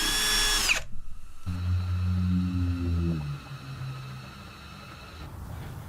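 A power drill drives screws to fit a hinge on a wooden leather-stitching pony, with a short high whine, a pause, then a longer, lower motor run that slows and stops, heard up close.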